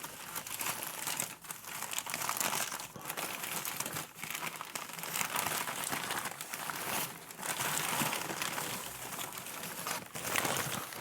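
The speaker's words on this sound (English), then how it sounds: "there is a lot of paper there" Packing paper crinkles and rustles steadily during the unboxing of a vintage Polly Pocket toy, a close, continuous crackling with brief pauses and no talk.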